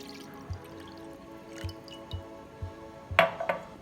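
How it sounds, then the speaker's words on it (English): Milk is poured into a bowl of chia seeds for pudding, heard as soft intermittent drips and splashes with a few sharper glassy clinks near the end, close and fairly quiet. "So now let's pour the milk."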